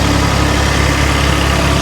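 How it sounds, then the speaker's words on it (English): Uprated Yanmar engine running aboard a Hanse 360 sailboat, a loud steady low rumble and vibrating drone heard up close with no talking. "This one has the uprated Yanmar engine on it"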